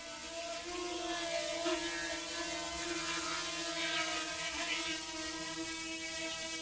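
A ModalAI VOXL 2 Starling drone hovers nearby with a steady, high-pitched propeller whine and buzzing tonal hum that holds constant throughout, faint voice underneath.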